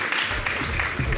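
Applause from a studio audience at a French variety TV show, steady dense clapping filling the short moment without pause, fairly loud and close.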